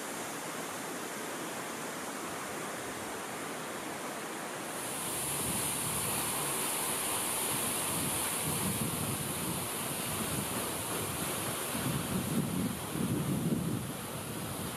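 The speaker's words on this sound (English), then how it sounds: "We took lunch at a roadside waterfall." Steady rushing water from a roadside waterfall in Bhutan, a constant broadband roar that grows fuller partway through, with a hissing high wash over low rumble.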